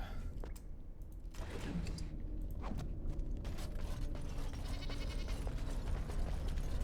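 Goats bleat faintly in the Dragon Age: Origins video game, heard amid a dense bed of creaking, ratcheting game ambience and mechanical clatter.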